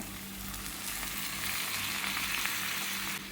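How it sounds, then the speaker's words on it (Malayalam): Milk poured into a hot pan with a butter garlic egg dish sizzles steadily, a broad continuous frying hiss close by with a low hum underneath and no talking. "ഇതിലേക്ക് നമ്മളെടുത്ത് വെച്ചിരിക്കുന്ന ആ പാലുണ്ടല്ലോ അങ്ങോട്ട് ഒഴിച്ചു കൊടുക്കുകയാണ്."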